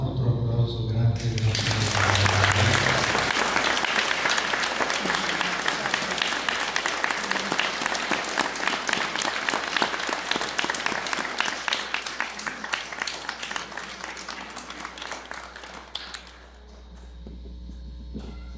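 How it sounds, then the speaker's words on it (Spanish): Loud, dense applause from a large crowd at a religious pilgrimage celebration for the Virgin of the Nativity, starting after a brief voice and a low hum, sustained for about fifteen seconds before tapering off. "Bueno, aquí está, otro aplauso grande."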